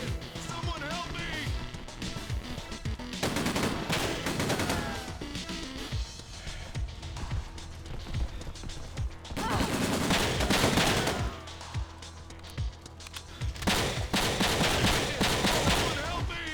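Video game gunfire fills the scene with repeated sharp shots in irregular bursts and clusters, loud and close, while a voice talks over much of the action.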